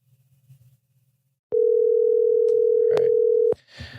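A single steady telephone dial tone heard while placing a call to a guest, a loud, clean continuous hum lasting about two seconds, with faint murmuring before and after it.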